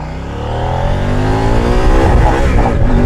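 A KOVE 800X adventure motorcycle accelerates hard, its engine note climbing steadily through the revs, loud and close, with a rising buzzing drone and no talk over it.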